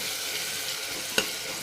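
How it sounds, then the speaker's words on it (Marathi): Tomato masala frying in oil in a pan, a steady soft sizzle throughout with one sharp utensil tap or clink partway in. "चांगले फ्राय करून घेतले"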